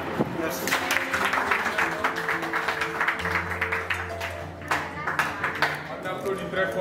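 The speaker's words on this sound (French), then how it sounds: "On applaudit très fort, c'était très bien." An audience gives a round of applause at a ceremony for trained young photographers in Gao, Mali, steady clapping filling the room with voices heard over it.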